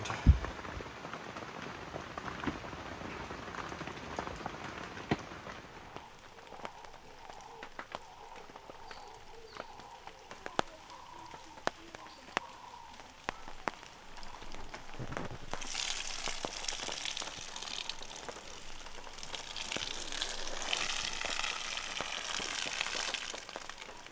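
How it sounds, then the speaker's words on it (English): Steady heavy rain pattering on surfaces at a campsite in South Africa's Drakensberg Mountains, growing into a heavier hiss toward the end, with scattered sharp drip taps throughout. "it started raining at about 7 o'clock last night"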